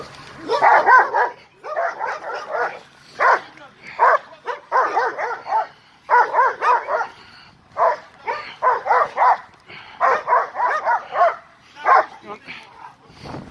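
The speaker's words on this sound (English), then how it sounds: "So, he gets very protective with other dogs" A street dog barks over and over in loud, close bursts of sharp barks and yips for about thirteen seconds, with people talking nearby.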